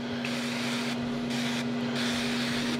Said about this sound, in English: I'm gonna spray the outside with a little more duck fat so it crisps up